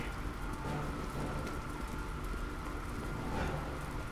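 Steady rain hisses evenly throughout in the video game Resident Evil 6, a dense, moderate wash of falling water.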